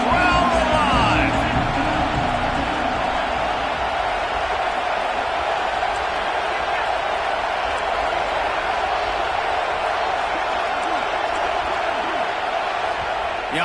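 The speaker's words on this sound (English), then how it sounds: "Third down. Red zone play. Crowd alive." Stadium crowd noise at a Texas A&M college football game during a third-down red zone play, a steady loud roar of cheering that holds throughout with some brief voices over it.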